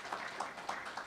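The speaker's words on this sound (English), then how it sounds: "Once again, a big round of applause to show our appreciation to the chairperson and" A short, faint burst of audience clapping for the chairperson and panelists at an international symposium panel discussion, soft and distant with a few distinct claps standing out.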